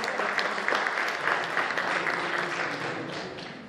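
Sustained applause from an audience at a Third Way (Trzecia Droga) political convention in Płock, a dense even wash of clapping for nearly four seconds that eases off slightly toward the end.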